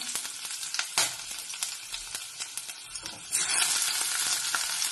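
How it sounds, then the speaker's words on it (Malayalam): Chopped ginger and garlic sautéing in a hot kadai, a close crackling sizzle broken by sharp scrapes of stirring, growing louder and busier toward the end. "അപ്പോൾ ഇഞ്ചി വെളുത്തുള്ളി എല്ലാം വാടി വന്നിട്ടുണ്ട്"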